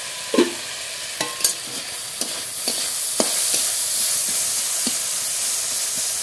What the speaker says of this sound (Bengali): এবার ভালো করে নেড়ে নেড়ে ভেজে নেব